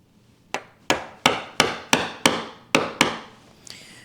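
A chisel struck with a mallet chops a mortise by hand in wood for a table apron, giving eight sharp, evenly spaced knocks, each decaying quickly, loud and close with nothing else heard, then a softer scrape.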